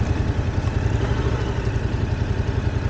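A Yamaha MT-07 motorcycle engine idles with a loud, steady, close-up throb and slight mechanical clatter, running alone without speech.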